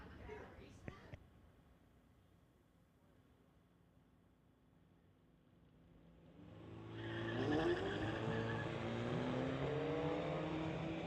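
A 2014 BMW 328 and a 2013 GTI launch in a drag race: a quiet stretch with faint murmuring voices gives way to loud engines swelling and revving hard through the second half.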